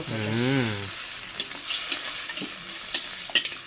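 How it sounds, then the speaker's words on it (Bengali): Mushroom and tomato masala fries in a pan with a soft, steady sizzle as it is stirred, giving scattered scraping clicks; a brief tonal sound opens the clip before the cooking noise takes over. "টমেটো দেওয়ার পর কিছুক্ষণ ভেজে নিলাম"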